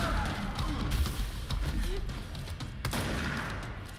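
Dense, continuous gunfire from a video game fills the whole stretch, with rapid overlapping shots and bursts in a loud, busy mix.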